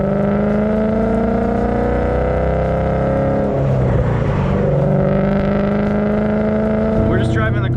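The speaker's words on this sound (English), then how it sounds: "We're just driving the car casually" A modded Ford 5.0 Mustang with 440 horsepower cruises along, its engine a deep steady drone heard from inside the cabin, with a swell in the middle and a person talking over it.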